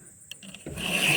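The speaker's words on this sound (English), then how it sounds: "So you just keep on sharpening it." A hand file rasps against a chainsaw chain in short scraping strokes, freehand sharpening that begins with a few light taps and builds into a louder, steady grinding rub.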